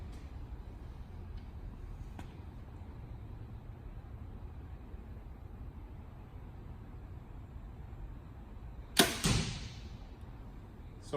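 An arrow shot from a bow while sighting it in: a single sharp release snap followed by a quick thud late on, against a quiet outdoor background.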